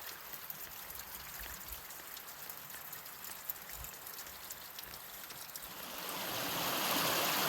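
Small creek flowing, a soft continuous trickle and babble heard close and fairly quiet, swelling slightly louder toward the end.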